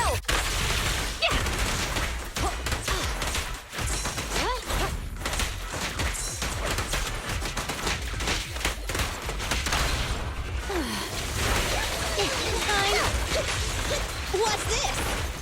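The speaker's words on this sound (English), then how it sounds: "No restrictions! Fire at will!" Rapid gunfire in the video game Zenless Zone Zero rattles on densely, layered with crashes, impacts and whooshes in a loud, continuous combat mix.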